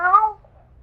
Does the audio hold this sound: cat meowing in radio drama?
yes